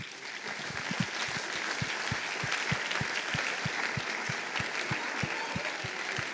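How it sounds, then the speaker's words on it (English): Sustained audience applause at an opening ceremony for a student prize presentation, a dense steady wash of clapping from a sizeable crowd with no talk over it. "we want to give you a big applause"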